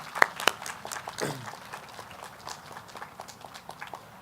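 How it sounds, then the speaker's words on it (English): Scattered, light clapping from an outdoor crowd at a Hobby Lobby grand opening in Pikeville for the city leadership, a few sharp claps early and then sparse, thinning applause. "So let's give them a round of applause."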